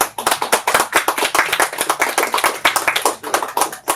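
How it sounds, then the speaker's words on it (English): Audience applause after a talk: rapid, crisp individual claps from a modest crowd, bright and close, continuous for several seconds with no speech. "Can we give her another round of applause?"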